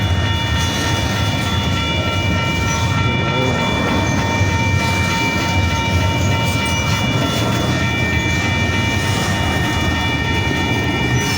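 An intermodal freight train rolls steadily past close by, a continuous loud rumble of wagons and wheels with faint clatter, with no talk over it.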